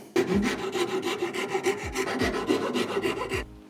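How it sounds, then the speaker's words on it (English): A flat metal file rasping across wood in a lamp-building workshop, about five firm back-and-forth strokes, close and loud, with no talking. "but I can do it with a file"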